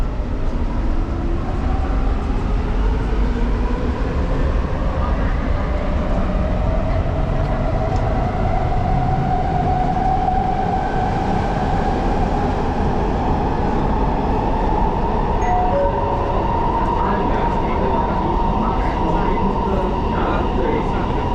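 Interior of a moving MRT metro train in Kuala Lumpur on the line from Bukit Bintang toward Putrajaya, with a loud continuous rumble and rising electric motor whine throughout the ride.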